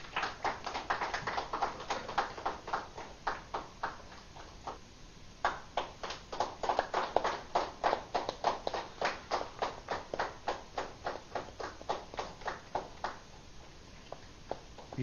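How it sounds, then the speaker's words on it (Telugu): A group claps in a steady, even rhythm, about three claps a second, sustained for the whole stretch with no talking. "ఒకసారి మన గురువులకు గట్టిగా చప్పట్లు కొడదాం"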